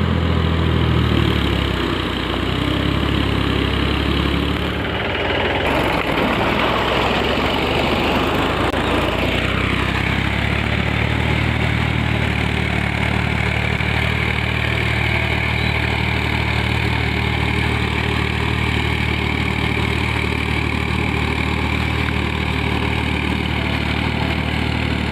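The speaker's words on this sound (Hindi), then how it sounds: "ट्रैक्टर अपना काम करके जा रहा है" A village tractor's engine runs steadily and loudly nearby as it finishes its work and moves off, with a rising, shifting roar partway through and then a constant drone.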